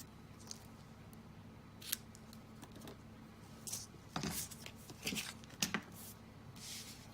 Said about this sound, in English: cut my ends off